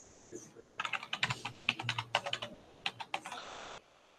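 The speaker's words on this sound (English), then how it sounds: "you can just type contributors on the bottom here on the coordinate and just type enter." Quick keystrokes on a computer keyboard while entering text in QGIS, a close, crisp run of irregular clicks lasting about three seconds.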